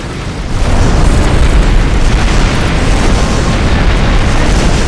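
Missile explosions in the space combat game Rebel Galaxy produce a dense, sustained roar of booms. Blasts rumble together for several seconds at high volume with no clear gaps.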